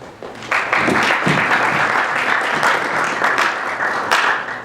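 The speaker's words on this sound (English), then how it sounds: "Round of applause." An audience at a university student senate debate bursts into applause, lively clapping that swells quickly and carries on evenly for several seconds before starting to fade.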